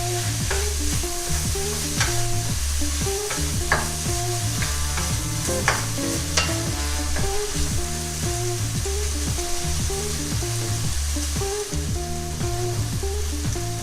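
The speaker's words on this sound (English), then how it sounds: "Let's give that a stir." Chicken stir-fry with ginger being stirred in a hot pan gives a steady sizzle punctuated by repeated scraping and tossing strokes, close and even in loudness.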